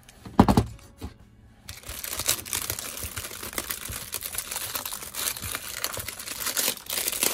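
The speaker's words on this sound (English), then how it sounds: "Let me grab my scissors and poke a hole right here without ruining." Crinkling plastic wrap, a sharp puncture from scissors poking a hole near the start, then continuous close rustling and crackling of handled plastic.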